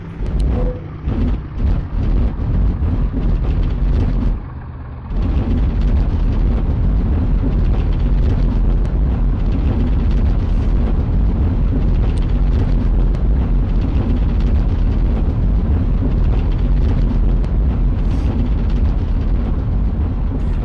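Engine noise from an airplane in a flight simulator game, throttled back for landing: a loud, steady broadband roar that briefly drops out near the start, then continues unbroken and heavy.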